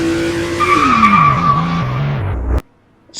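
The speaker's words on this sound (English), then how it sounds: "I'm gonna just drift here." A car skids and drifts in the Car Driving Ultimate video game, with a loud sustained tire squeal over a droning engine that falls in pitch for about two and a half seconds before cutting off abruptly.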